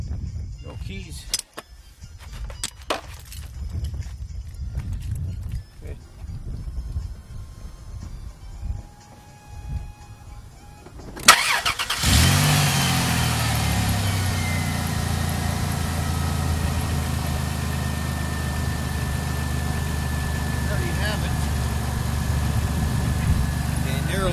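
A 2000 Chrysler Town & Country fitted with a new starter: scattered clicks and handling noises, then a brief crank and the engine catches, settling into a steady close idle for the rest of the clip, with people talking.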